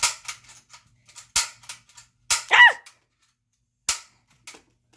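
A Spider-Man toy gun fires a few sharp, snappy pops spaced irregularly, close and fairly loud, with brief clicks and a short squeaky sound between shots.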